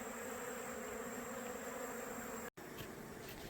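Dense, steady buzzing of many honeybees at a hive entrance fitted with a robbing screen, continuous and close, with a brief dropout near the end.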